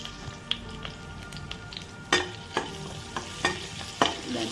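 Garlic and curry leaves fry in hot oil for a tempering, a steady low sizzle broken by several sharp clinks of a utensil stirring against the pan, close and fairly quiet with no voices.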